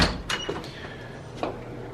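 A louvered closet door in a historic inn's hotel room opens with a few quiet wooden knocks and rattles, soft and close in an otherwise hushed room.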